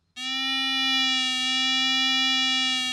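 A steady, loud electronic metal detector target tone from an XP Deus II, holding a single pitch for nearly three seconds after an abrupt start, rich in even overtones, with no other sounds.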